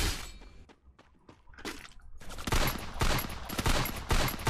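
A weapon fires in the mobile shooter game Free Fire. A few scattered sharp shots come first, then dense rapid volleys of loud gunfire.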